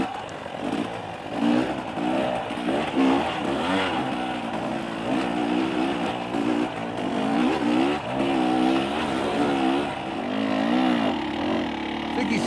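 A 2023 KTM 300XC two-stroke dirt bike rides through rocky terrain, its engine constantly revving and blipping up and down, loud and close throughout with no talking.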